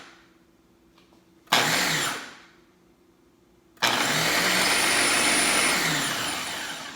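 A kitchen blender chops and mixes Puerto Rican sofrito (recao) in two loud whirring bursts, a short spin that winds down, then a longer steady run after a quiet pause, with no talk.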